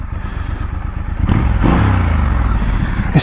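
Triumph Scrambler 1200 XE motorcycle engine idling with a low, bassy rumble, rising louder and fuller about halfway through as the revs pick up, close by with no talking.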